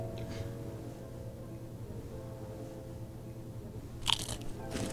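Someone bites into burnt food, with a few faint crunches of chewing heard under a low room hum, the loudest crunch near the end of the short stretch.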